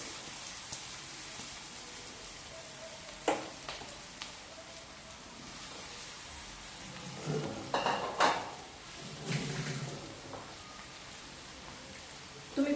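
Vegetable Hakka noodles being mixed on full gas give a soft background sizzle, with occasional spatula scrapes and a couple of louder tossing bursts near the end.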